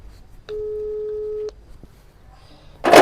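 A single steady telephone tone sounds for about a second in a quiet room, followed by a faint click and a sudden burst of noise.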